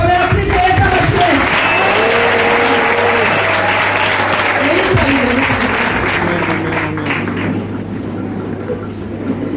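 A church congregation claps together in sustained applause, a loud, dense wash of hands close by with a voice speaking over it, tapering slightly toward the end.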